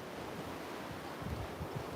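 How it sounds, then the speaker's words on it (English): Strong gusting wind from a storm's outflow buffets the outdoor microphone in a steady, close rumble with no talk. "It's going to get too windy out here."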